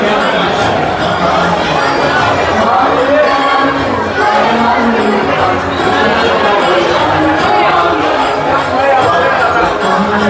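Thick crowd noise at a Ganesh Chaturthi pandal during darshan in Pune, many voices blending into a constant loud roar with indistinct chatter near and far, unbroken throughout.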